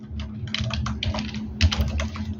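Someone types a Flutter build command on a computer keyboard, producing a quick series of close, crisp key clicks in uneven bursts over a low steady hum.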